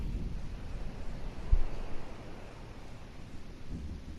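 Stormy weather in the Kingdom Hearts game: steady wind and rumbling low noise with a faint thunder-like thump partway through, a continuous blustery wash without speech.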